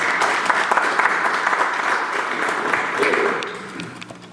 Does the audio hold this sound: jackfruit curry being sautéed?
no